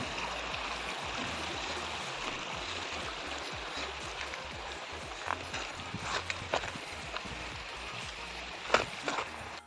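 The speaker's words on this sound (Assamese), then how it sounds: "ইমান ভাল লাগে মাতটো শুনি পানীৰ" River water flowing near a picnic spot, a continuous rushing babble with irregular splashes and knocks growing more prominent toward the end, moderately close.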